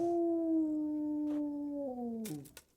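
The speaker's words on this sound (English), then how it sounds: "the dog is howling" A dog howls in the video game Kingdom Come Deliverance, one long sustained, slowly falling wail that fills most of the clip before breaking off, heard alone with no talk.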